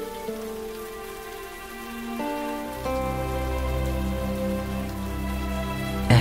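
Rain falls on a spring night, a soft continuous patter blended under sustained tonal music that swells in the second half.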